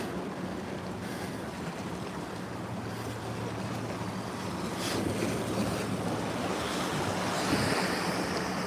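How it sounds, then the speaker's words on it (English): Ocean surf rolling in at Bethany Beach under a coastal flood warning from Hurricane Erin, a continuous loud wash of breaking waves with heavy wind buffeting the microphone, growing stronger toward the end with no voices. "So should see more wave action here as we get with waves coming out of what will be the southeast."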